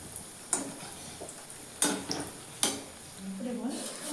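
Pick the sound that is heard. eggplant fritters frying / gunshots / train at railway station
eggplant fritters frying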